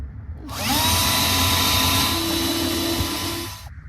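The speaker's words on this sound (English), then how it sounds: "I can drill a little pilot hole under each of those squares" A small power drill bores a pilot hole beneath a Peco model railway point, a close, loud whine starting abruptly, holding a steady pitch for about three seconds, then stopping cleanly.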